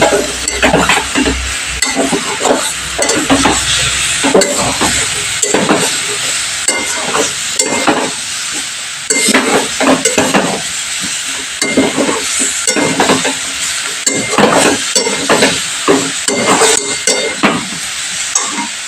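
Masala loosened with a splash of water sizzles loudly in a pan for a broccoli vegetable dish, with a spatula scraping and stirring in a busy, irregular rhythm throughout.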